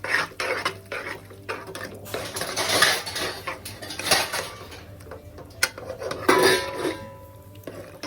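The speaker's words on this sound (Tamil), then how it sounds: "ஒரு கரண்டி வச்சு நீங்கள் அப்படியே லைட்டாக மசிச்சு விட்டிங்கனாலே நல்லா மசிஞ்சிரும்." A ladle scrapes and knocks inside a pot while mashing cooked dal for masala dal fry, giving irregular metallic clinks and soft thuds at close range; no one speaks.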